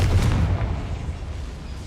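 Confringo fire spell from the game Hogwarts Legacy going off as a single loud, booming blast that then trails into a rumbling decay, with no talking.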